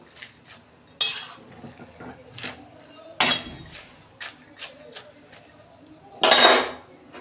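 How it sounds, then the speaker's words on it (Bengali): A pan of cabbage being covered with its lid: a few loud metallic clatters and clanks of the lid and utensils against the pan, with softer scraping between and a final longer rattle as the lid settles. "আমি পাঁচ মিনিট মতো ঢাকা দিয়ে দেবো"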